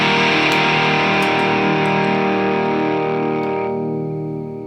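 An electric guitar played through a Proco RAT distortion pedal rings out as a thick, fuzzy sustained chord, loud and close, slowly decaying toward the end.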